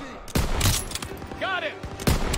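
Machine gun fire in the Call of Duty WWII video game, with close rattling bursts and scattered gunshots over about two seconds and a brief shouted voice in between.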